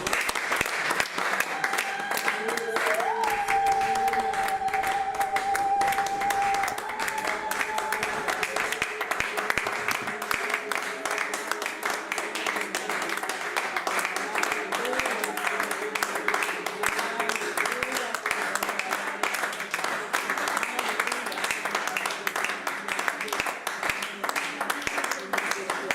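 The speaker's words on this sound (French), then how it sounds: "Au nom de Jésus-Christ, Jésus, nous t'acclamons le roi de roi." Church congregation applauding during a worship service, steady dense clapping sustained throughout with a sung or spoken voice and music carrying over it.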